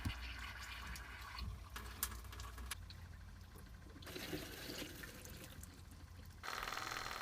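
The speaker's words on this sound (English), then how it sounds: "We let the water flow until the tank is empty and the pump runs dry" Water rushing and splashing through a boat's faucets as the freshwater tank empties, shifting in strength and surging louder near the end, faint and close with no voices.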